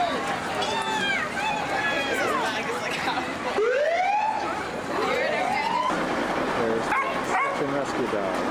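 A rescue dog barks outdoors in rain in Alaska, sharp repeated barks and yips over a busy background with sweeping siren-like tones, fairly distant and mixed with other noise.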